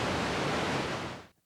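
A steady, darker rushing hiss of pink noise from a Sequential Take 5 synthesizer holds evenly, then cuts off abruptly near the end.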